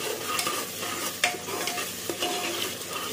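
Spices and half-cooked tomatoes fry and are stirred in a pan for mutton tahari, a steady close sizzle broken by a few scraping stirs of the spoon.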